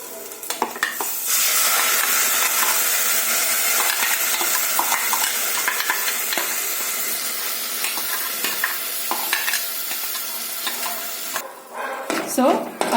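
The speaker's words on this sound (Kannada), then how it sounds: "ಒಂದೆರಡು ನಿಮಿಷ ಮೀಡಿಯಂ ಫ್ಲೇಮಲ್ಲಿ ಹಸಿ ಸ್ಮೆಲ್ ಹೋಗೋವರೆಗೂ ಫ್ರೈ ಮಾಡ್ಕೊಳ್ಳಿ." Ground masala paste for rasam fries over a medium flame, making a continuous loud sizzle with spoon-stirring scrapes and light clinks against the pan near the end.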